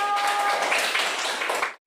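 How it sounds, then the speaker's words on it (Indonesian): A classroom audience applauds a presenting group in a steady, close burst of many hands clapping that holds evenly, then cuts off abruptly. "tepuk tangan untuk kelompok 3"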